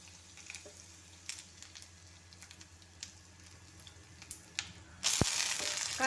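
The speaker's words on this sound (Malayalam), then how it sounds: "ഇത് ഇതിലേക്ക് വറ്റൽമുളക് ഇട്ട് കൊടുക്കാം" Quiet clicks and light taps give way to a sudden loud burst of sizzling as dried red chillies hit hot oil, with the frying hiss continuing close and steady to the end.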